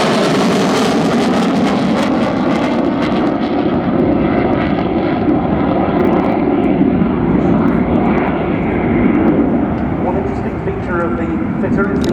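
Sukhoi Su-22 Fitter jets flying at the RIAT 2014 airshow, a loud continuous engine roar throughout with someone talking over it.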